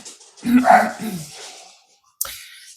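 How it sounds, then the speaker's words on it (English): A single dog barks once at moderate distance, followed by a brief pause and a short sharp sound, with no other voices. "Excuse the dogs."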